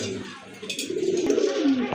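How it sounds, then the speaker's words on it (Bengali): Pigeons coo softly nearby in low, rolling calls, with a few faint clicks and background voices. "আর এক জোড়া কবুতর দেখতে পাচ্ছেন"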